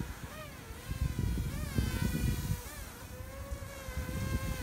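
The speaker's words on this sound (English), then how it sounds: "Direct drive props on the direct drive motor, so she's really quiet." A cheap small SHRC Locke camera drone, a Tello clone with direct-drive props and motors, gives a thin, steady buzzing whine whose pitch rises and falls as it flies, fairly quiet with no talk.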